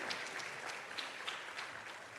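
Audience applause at a school board of education public session, a steady wash of many hands clapping with scattered sharper claps, fairly quiet and distant throughout.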